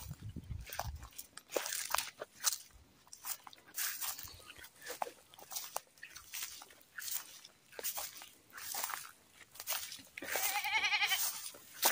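Goats bleat and chew in a village setting, with a steady crunching of feed close by and a bleat near the end, while faint voices murmur in the background.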